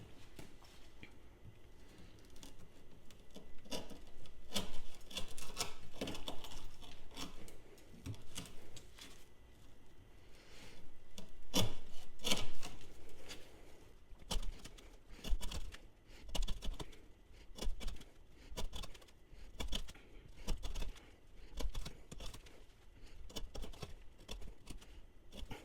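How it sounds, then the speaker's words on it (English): Vehement Mongrel knife with CPM 3V steel slicing through half-inch twisted rope, a series of sharp, fairly close cutting snaps and thuds at an irregular pace over quiet background. "we're gonna attempt to make 20 cuts of this 1/2 inch twisted scissor rope"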